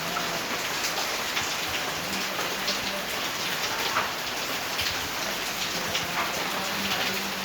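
Heavy rain pouring steadily during a strong windy storm in Kerala, a dense, continuous hiss close by with no voices and no breaks across the whole stretch.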